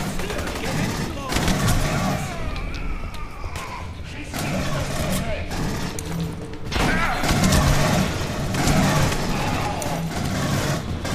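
Automatic sentry turrets fire in Aliens: Colonial Marines, dense continuous rattling bursts with booming impacts, loud and sustained, mixed with other combat noise.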